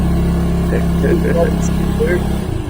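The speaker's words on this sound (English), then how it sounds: "There's a lot of engine noise and very little forward progress." A steady low engine drone runs throughout, with people talking over it nearby.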